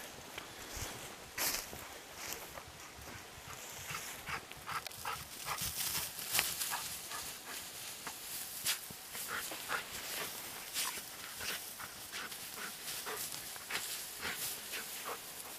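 A dog moves around outdoors at an off-grid cabin build site, with soft repeated panting breaths and scattered footfalls on the ground, fairly quiet against faint background noise.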